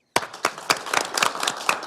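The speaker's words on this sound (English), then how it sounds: "let's give them a round of applause" Audience applause at a Duluth Public Schools regular board meeting: a sudden burst of clapping from a seated crowd, fairly close and loud, with a few sharp standout claps over a steady patter.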